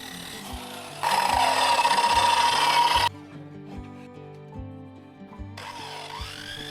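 Two seconds of steady, rough abrasive rubbing of 80-grit sandpaper on wood, close and fairly loud, set between stretches of soft background music.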